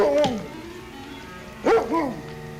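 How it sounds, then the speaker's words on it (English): A dog barking in an old radio drama set in the Yukon: a pair of sharp barks, a pause, then two or three more quick yips, close and fairly loud over a faint background hum. "what's the matter with that dog?"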